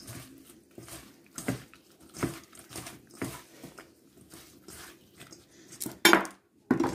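Potato pieces are tossed with rosemary and oil in a bowl, giving a series of soft, irregular clacks and wet scrapes roughly every half second, close by, ending in a couple of sharper knocks.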